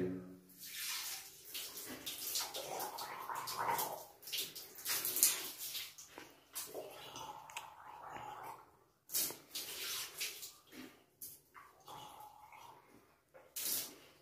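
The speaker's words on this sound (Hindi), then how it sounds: "इस तरह दांत साफ करने के बाद हम 3 बार गरारा करेंगे।" Water is gargled after brushing teeth: several gurgling, splashing bursts separated by short pauses, close and moderately loud.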